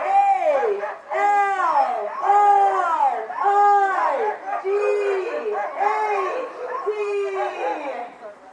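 Sled dog puppies and dogs in Skagway, Alaska howl and yelp in a rising, wavering chorus, near and loud, with repeated overlapping calls.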